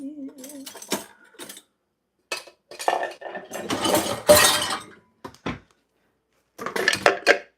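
Kitchen clatter as a food chopper is taken out, utensils and metal parts moved around in bursts, with rattling and clunking close by, separated by short pauses.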